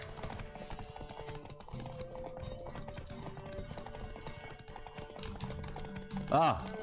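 Galloping horse hooves in a Witcher 3 horse race, with a rapid, steady clip-clop pounding continuously under game voices and music, ending in a loud whinny near the close.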